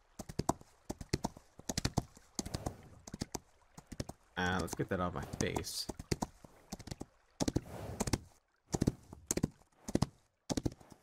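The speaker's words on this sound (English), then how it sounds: "We're gonna get on our horse and get home" Horse hooves clip-clop in the farming video game Heat Homestead, a fast, steady run of clear hoofbeats with short pauses, while someone talks over part of it.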